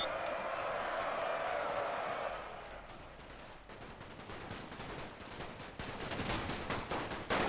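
Rapid rifle and machine-gun fire crackles through a First World War battle between Russian and Ottoman troops in a Total War strategy game, dense overlapping volleys building toward the end under a steady battlefield din.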